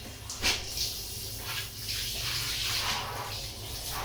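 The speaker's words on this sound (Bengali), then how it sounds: "গায়ে দেবো গরম জল মিক্স, ঠান্ডা গরম মিক্স" Warm water, mixed hot and cold, pours and splashes over a dog during a bath in a steady gushing stream with short louder spurts, close up and with no talking.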